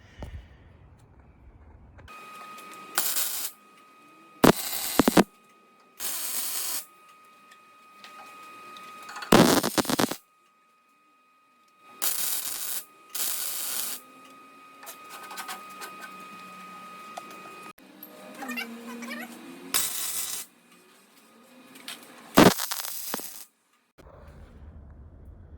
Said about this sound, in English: Just going to weld those into place onto the frame